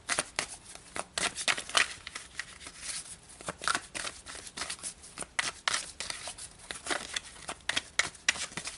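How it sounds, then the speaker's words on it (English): Tarot cards being shuffled and drawn, giving a run of quick papery riffles and soft snapping flicks in irregular bursts, close and fairly quiet, with no talking. "So let's pull some more cards to get more information."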